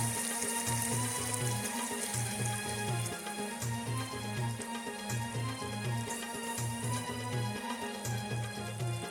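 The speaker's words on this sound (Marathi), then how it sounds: "आता आपण गरम पाणी ओतून घेऊया" Hot water pours steadily into a pot of village-style chicken curry with a continuous splashing rush, while a rhythmic low hum pulses underneath.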